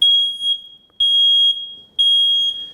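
A piercing high-pitched household smoke detector beeps three times in a steady rhythm, each tone lasting about half a second, loud and close.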